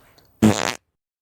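A single loud fart bursts out for about a third of a second, close and abrupt, with near silence before and after.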